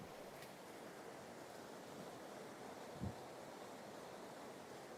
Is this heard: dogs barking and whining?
no